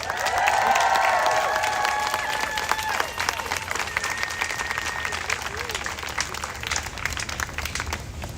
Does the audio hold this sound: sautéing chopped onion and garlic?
no